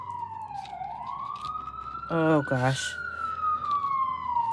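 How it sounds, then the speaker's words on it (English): A city emergency siren wails outside an apartment window, its long sweeping tone steady and fairly loud, broken midway by a quick yelping burst before the wail returns; a person briefly exclaims over it. "So don't mind the siren outside."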